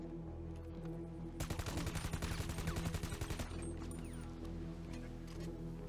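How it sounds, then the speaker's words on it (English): A heavy rifle fires in GTA Online on Cayo Perico: a fast, loud burst of rapid automatic shots that lasts about two seconds, over steady low game background sound. "take a look at this next video where I'm using a heavy rifle"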